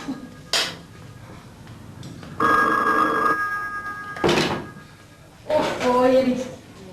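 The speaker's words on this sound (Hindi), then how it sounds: "फोन की घंटी, फोन की घंटी सुने" An old telephone bell rings in bursts indoors, loud and close, with handling knocks between the rings.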